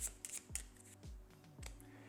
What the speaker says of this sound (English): Take the flood discard pile, shuffle it, and place it on top of the deck